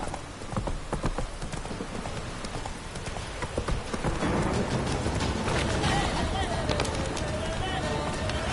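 Roach, a horse in The Witcher 3, gallops with steady clip-clop hoofbeats that grow louder and busier midway, mixed with game ambience and some talk.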